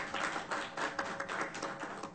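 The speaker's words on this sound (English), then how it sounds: "Let's give her a round of applause." An audience at a 2012 open-government knowledge-exchange conference in Brasília applauds, a steady patter of many hands clapping at moderate distance, fairly soft, lasting a couple of seconds with no talk over it.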